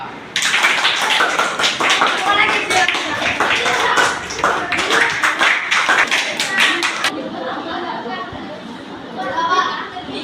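Fifth-grade pupils in a maths class clap in uneven bursts as pairs complete their work, rapid hand claps over lively children's chatter that fades to murmuring near the end.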